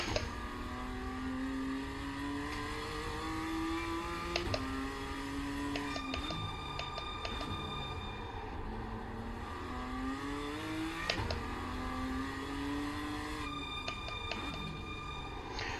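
A rookie race car in the iRacing sim racing game revs up and down through the gears, with a steady engine drone and repeated rising pitch sweeps and shifts, heard alone with no talking.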